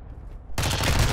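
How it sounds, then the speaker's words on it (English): Gunfire in the video game Warzone 2 bursts in abruptly halfway through, a dense, loud rattle of shots after a quieter low rumble. "I hear bullets coming from that direction."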